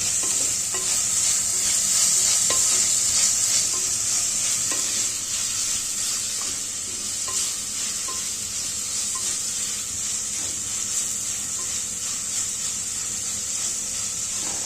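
Chopped onion with green chillies sautés in a pan for a crab curry, a loud, steady hiss and sizzle with faint stirring scrapes throughout.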